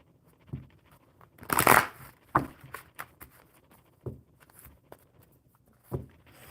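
A deck of cards is shuffled close by in short, scattered bursts of riffling and rustling, one louder flurry near the start and softer flicks after.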